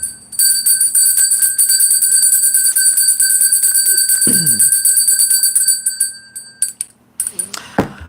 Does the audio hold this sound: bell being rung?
yes